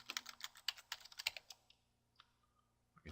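Rapid keystrokes on a computer keyboard come in a dense, close burst, then thin out to a few scattered clicks and a faint tap near the end.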